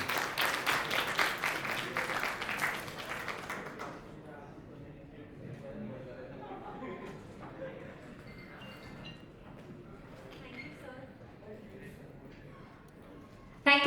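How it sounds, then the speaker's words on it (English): Audience applause at the close of a conference session at AWS Community Day Vadodara 2024, a few seconds of moderate clapping that fades into quiet room murmur and talk. "Give them a huge round of applause"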